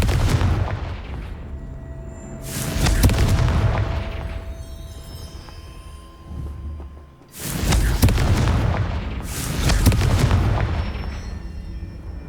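Confringo fire-blast spell cast in Hogwarts Legacy: two pairs of heavy booming explosions, each burst rolling off into rumble, loud with a quieter gap between the pairs.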